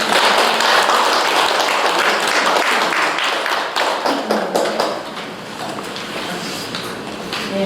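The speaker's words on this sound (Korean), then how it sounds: "큰 박수 보내주세요" An audience at a Buddhist college lecture at Jogyesa claps loudly and continuously, a dense roar of hands that thins into scattered, lighter claps toward the end.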